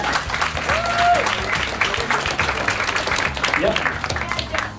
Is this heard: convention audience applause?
yes